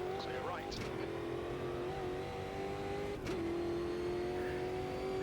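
Race car engines from the racing game Automobilista 2 drone steadily at high pitch as cars run close together, with a gear-shift dip partway through and a voice speaking over the engine noise.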